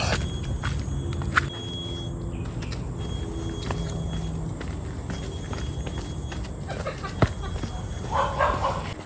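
Dogs bark along a hiking trail in Malaysia, mixed with footsteps and people talking close by as the group moves on the path.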